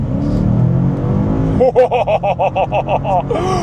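BMW M5 CS, a limited-run sports sedan, accelerating hard, engine rising through rapid gear changes in a rhythmic series of pulsing surges, loud and close, following a stretch of people talking.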